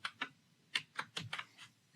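Code being typed on a laptop computer keyboard: about eight faint, close key clicks in an uneven rhythm, no voices.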